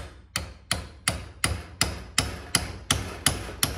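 A hammer strikes repeatedly to set a pin in a stainless clutch line for a Jeep Grand Cherokee AX15 transmission, ten sharp evenly spaced taps in steady rhythm, close and clear with no talking.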